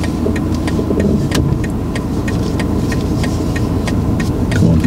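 A car engine idles and runs at low revs during a driving lesson, a steady close rumble inside the cabin with faint regular ticking over it and no talk heard.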